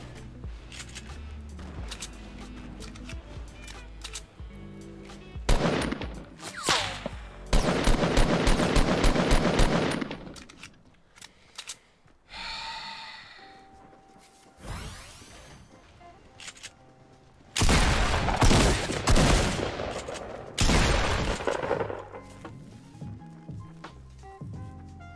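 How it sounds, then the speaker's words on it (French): Bursts of automatic gunfire in Fortnite Battle Royale, loud clustered volleys separated by quieter gaps, with scattered shorter shots and game effects in between. "Ah, je me fais tirer dessus d'où?"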